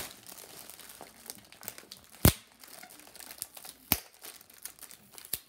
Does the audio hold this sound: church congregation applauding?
no